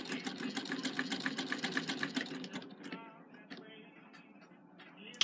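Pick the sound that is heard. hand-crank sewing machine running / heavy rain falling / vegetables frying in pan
hand-crank sewing machine running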